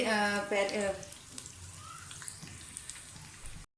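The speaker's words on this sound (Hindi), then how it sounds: "बहुत ज़्यादा फ्राई नहीं करना, प्याज को हमने सिर्फ सौते से करना है।" Chopped onions sauté gently in a pan with a faint, soft, crackling sizzle, heard after a brief stretch of talking. The sound is quiet and close, with scattered small pops.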